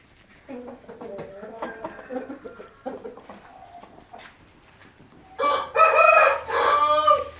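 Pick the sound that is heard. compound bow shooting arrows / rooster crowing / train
rooster crowing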